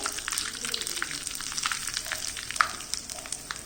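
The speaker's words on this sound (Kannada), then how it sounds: "ಈಗ ಇದಕ್ಕೆ ನಾನು ಒಂದು ಒಣಮೆಣಸಿನಕಾಯಿನ ಮುರಿದು ಹಾಕೊಳ್ತಾ ಇದ್ದೀನಿ." Dried red chilli and curry leaves fry in hot oil for a tempering, giving a dense, steady crackling sizzle up close with small pops throughout.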